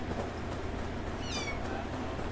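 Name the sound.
cat meowing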